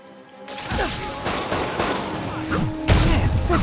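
Gunfire in the Marvel's Spider-Man video game on PS4 Pro, a dense crackle of repeated shots with booming bursts that builds from about half a second in and swells louder near the end.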